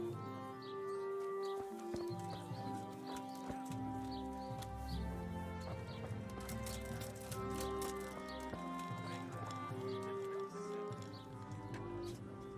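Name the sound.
horse riding in video game Kingdom Come: Deliverance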